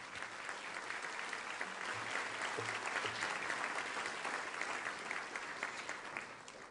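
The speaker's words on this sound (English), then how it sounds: "So a big round of applause to you all for being here tonight." Guests at a scholarship reception applaud, a dense, even wash of clapping that holds steady throughout with little talk beneath it.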